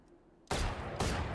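Gunfire in the tactical shooter Valorant: a loud, dense burst of rapid shots that starts abruptly after a moment of near silence and continues steadily, with a second surge near the end.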